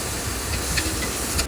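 Onion hits hot coconut oil in a pan, giving a loud, dense, continuous hiss that holds steady for a brief moment.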